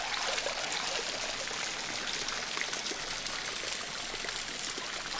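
Water flowing through a freshly dug channel in the adventure game Secret Files: Tunguska, a steady trickling stream with no voices.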